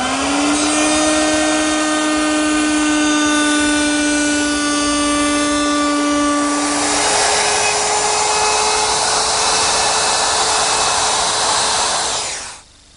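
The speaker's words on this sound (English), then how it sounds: "at our old router station, I've installed a special bit which will complete the slot" A router fitted with a special slot-cutting bit whines steadily while cutting a slot in wood. The loud, constant motor tone shifts partway through as the bit bites in, then winds down abruptly at the end.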